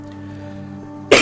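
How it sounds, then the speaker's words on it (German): A single sharp, loud cough bursts out near the microphone after a quiet stretch of low background hum. "Oh, das war das erste Mal Husten in dieser Folge."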